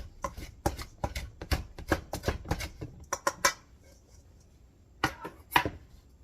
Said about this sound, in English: You just push through it like you would a pie dough. It cuts the butter nicely into the flour and the sugar.